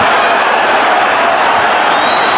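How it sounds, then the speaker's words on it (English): A Madison Square Garden boxing crowd roars on its feet during the Hagler–Hamsho fight, a loud, unbroken wall of cheering close and constant. "Crowd on its feet at the Garden."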